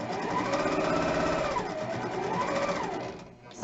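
Sewing machine chain stitching quilt pieces together for a mystery quilt, a steady close rapid mechanical whir that rises and falls slightly in speed, then stops abruptly.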